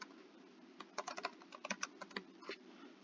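Typing on a computer keyboard, a quick irregular run of close, distinct key clicks with short pauses between clusters, alone over a faint steady background.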